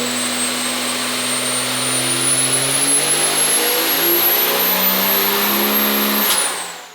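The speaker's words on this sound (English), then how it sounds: "we'll see what kind of power it makes" A tuned truck engine held at a loud, sustained high rev on a dyno, with a whine that climbs steadily as the engine pulls. It drops off sharply near the end.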